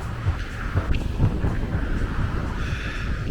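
Wind buffeting along the Leblon–Ipanema beach boardwalk on a cold, gusty day with rough sea, a steady low rumble of gusts over the microphone with a faint background wash.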